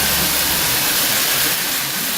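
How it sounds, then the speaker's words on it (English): Onions and garlic sauteing in a pan in a home kitchen in Fortaleza, Brazil, giving a steady, loud, broadband sizzle that holds without a break. "he is going to saute the onions and the garlic, just like so"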